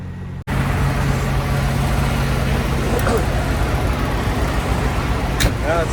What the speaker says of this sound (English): Speaking of my loud APU.